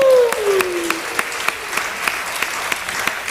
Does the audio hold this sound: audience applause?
yes